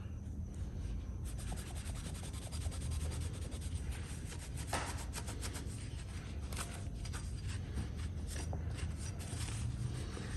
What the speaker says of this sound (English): This is actually harder to polish than I thought.